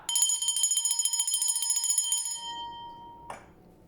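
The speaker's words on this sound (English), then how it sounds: "I'm just going to ring the bell to anchor that 111 energy" A small bell rings out in a rapid, close trill, its bright metallic tone sustaining and fading for a couple of seconds before a final faint tap.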